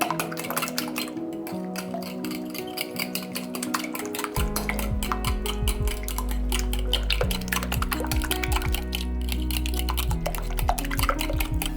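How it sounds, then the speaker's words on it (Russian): A spoon stirs sour cream, eggs and salt together in a bowl, a steady run of wet scraping and light clinks against the dish that carries on alone, growing a little fuller partway through. "Перемешиваю, чтобы яйца соединились со сметаной."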